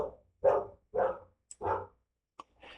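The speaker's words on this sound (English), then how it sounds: "Sorry if you hear the dog in the background." A neighbor's dog barking nearby, three loud, distinct barks in quick succession followed by softer yips, each bark short and sharp against silence.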